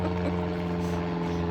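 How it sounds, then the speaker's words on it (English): An airplane passes overhead, a steady continuous engine and propeller drone with a low humming tone throughout, fairly loud and alone with no talking. "Always with the planes."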